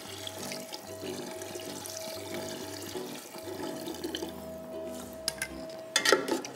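Water runs and pours steadily into a cooking pot for kheema kanji (minced meat rice porridge), with a humming tone underneath, ending in a few clinks and splashes near the end.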